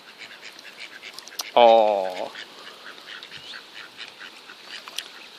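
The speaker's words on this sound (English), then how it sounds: "There's some legit quacking going on there." A duck at a park pond gives one loud, close, harsh quack lasting under a second, with faint birds chirping in the background and a brief spoken exclamation.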